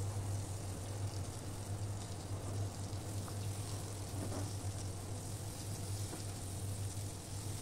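Tortang talong, an eggplant omelette, frying in a pan, with a soft steady sizzle and crackle running evenly throughout, fairly quiet and without any talking.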